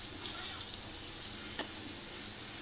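Spiny eggplant pieces fry in a pan with a soft, continuous sizzle and a couple of brief stirring taps, fairly quiet and close.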